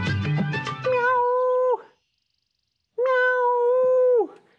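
A man imitates a cat's meow with his voice, two drawn-out tonal meows separated by a short silence, loud and close with no other talk.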